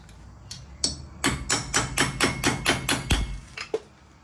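A hammer strikes a center punch on a wheel bearing nut about a dozen times in a quick, steady series, sharp and close, with a couple of lighter taps before and after.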